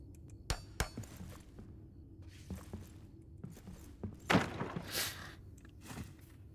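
Repair work on a timber tile in Return to Moria, a fantasy game, comes through as scattered clinks and knocks, with a louder burst of hammering and crunching near the end over a low ambient hum.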